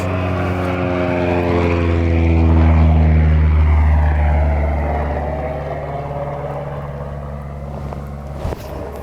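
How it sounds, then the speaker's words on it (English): A propeller airplane drones overhead above Lake Mälaren, its engine swelling loud and steady, then slowly fading, with no talk over it. "We got airplanes and stuff."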